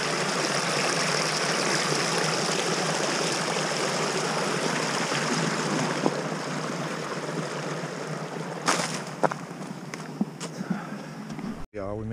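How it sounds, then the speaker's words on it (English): A clear stream flows steadily beside a lakeshore trail in a state park, a close, continuous rushing burble with a few footsteps and light knocks near the end. "this stream is really pretty. Very beautiful. Water just clear as can be. Good little flow"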